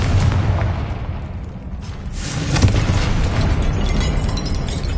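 A Confringo spell explodes in a video game, a dense booming blast with rolling rumble that flares up again midway, loud and close, and no speech is heard.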